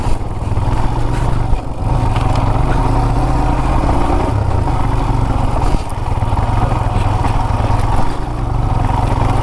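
A motorcycle climbs off-road up Kailasagiri hill, its engine droning loud and steady close by, with a few dips in revs and no talk over it.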